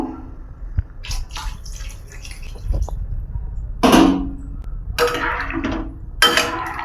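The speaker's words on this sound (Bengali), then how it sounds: "এবার আমি গরম জলটা দিয়ে দেবো" Hot water poured into a simmering prawn and potato curry in several short bursts, each with a splashing gush and bubbling, mixed with clinks of a bowl or spoon against the pot, close by and without talking.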